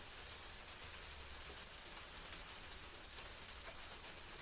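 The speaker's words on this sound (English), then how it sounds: "you can hear the rain again too. Can you guys hear it?" Steady rain falling outdoors at night during a knifemaking session, an even continuous hiss of drops with a low rumbling undertone, moderately quiet and unbroken throughout, no voices.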